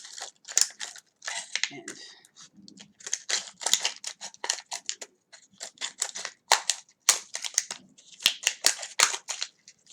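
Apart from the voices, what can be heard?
cutting a plastic water bottle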